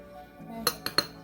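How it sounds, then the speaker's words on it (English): A few light clinks of a utensil against a bowl while salt, flour and baking soda are mixed for biscuits, three sharp taps close together over a quiet background. "salt and flour together with baking soda. Gonna mix that"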